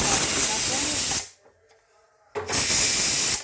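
Loud rushing hiss of steam escaping from a pressure cooker of chana dal in two bursts, broken by a brief quiet gap, close by.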